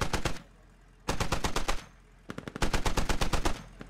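Bursts of automatic gunfire from the game Squad rattle out in three distinct volleys separated by brief pauses, crisp and fairly close, with the last burst the longest.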